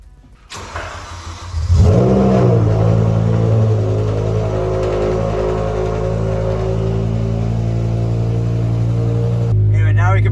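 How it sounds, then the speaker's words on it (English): A BMW M6 V10 engine cold-starts, cranking and firing, flaring to a loud rev before settling into a steady, rumbling high idle that holds until the end. "let's get a little V10 cold start"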